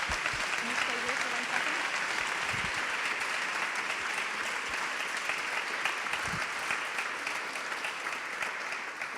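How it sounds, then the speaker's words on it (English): An audience at a launch event applauds in a sustained, fairly distant round of clapping, with a couple of faint low thuds and some voices mixed into the steady patter. "Can you all give me a big round of applause for our lovely guests?"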